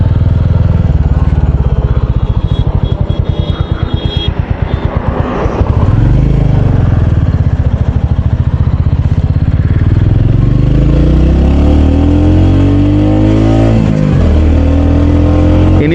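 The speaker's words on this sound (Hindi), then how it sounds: "बस बाइक दब रही है, घुट रहा है इंजन इसका" A Royal Enfield Hunter 350 with a long-stroke single-cylinder engine pulls while riding, a loud thumping exhaust that bogs and strains at low revs, then rises and falls as it accelerates, with wind rush over it.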